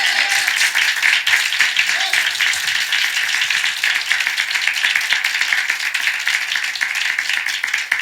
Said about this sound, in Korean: 먼저 우리 하나님께 박수로 영광을 돌리겠습니다